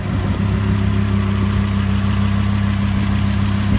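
A 2015 Lamborghini Huracán LP610-4 with its 5.2-liter naturally aspirated V10 idles with the hood open, a loud, steady, close rumble with no one speaking.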